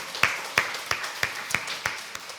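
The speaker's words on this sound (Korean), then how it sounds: "우리 하나님께 영광의 박수 올려드립니다" Clapping to glorify God during a church service, heard as a slow, even series of about eight sharp claps on a beat, fairly quiet, with a soft room murmur underneath.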